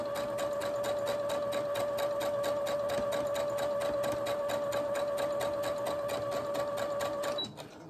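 A sewing machine stitches fabric for a children's cloth drawing book, running at a steady fast rhythmic whir with a clear tone for about seven seconds before stopping abruptly, close and alone.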